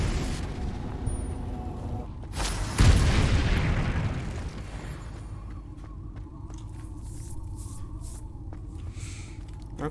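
A Confringo blasting spell goes off in Hogwarts Legacy, a loud booming explosion with a sharp burst that rolls into a lingering rumble before fading into quieter background ambience.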